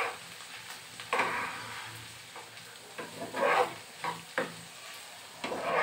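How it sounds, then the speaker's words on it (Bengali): Scrambled egg and chopped spring onion stir-fried in a pan, a soft steady sizzle broken by several loud scraping stirs of a spatula at irregular intervals, close and without voices. "ব্যাস তারপর সব কিছু নেড়েচেড়ে মিশিয়ে 2-1 মিনিটের মতো"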